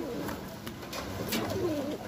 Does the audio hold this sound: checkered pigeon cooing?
yes